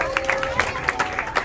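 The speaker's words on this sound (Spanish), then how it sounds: "Pon el aplauso, mi aplauso, Edwin!" A crowd claps in a brief, quick rhythmic burst, with voices murmuring underneath.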